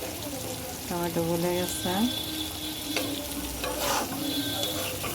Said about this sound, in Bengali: মাছ ভুনার মশলাটা আমার কষানো প্রায় শেষ বন্ধুরা। টমেটো দিয়েছিলাম, দেখেন টমেটো গলে গেছে